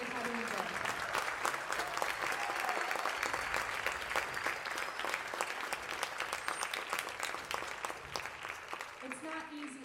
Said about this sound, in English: if you would all give them a round of applause for the toughness that they've had to endure